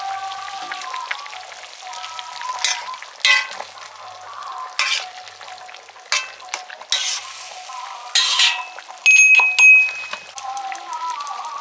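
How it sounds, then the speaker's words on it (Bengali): Pieces of fried fish dropped into a hot pan, with repeated bursts of sizzling and stirring scrapes over a faint, steady crackle of oil. "ভাজা মাছগুলো দিয়ে দিচ্ছি"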